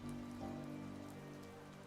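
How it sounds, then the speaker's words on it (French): Light rain falls in fine droplets outside a dark two-storey manor before dawn, a soft steady patter under a low, faint tonal hum, with no voices. "Il pleut très légèrement en fines gouttelettes sur vos sombres manteaux."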